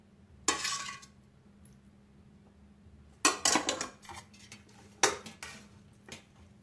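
Lasagna noodles are mixed in a dish in a quiet kitchen: three separate bursts of clinking and scraping utensil against the dish, with short pauses between them.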